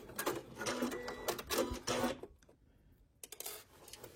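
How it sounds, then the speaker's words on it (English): Sewing machine back stitching, a quiet rattling run of fast needle strokes that pauses briefly, then starts again, close by with no voices. "I'm just going to back stitch here a little bit."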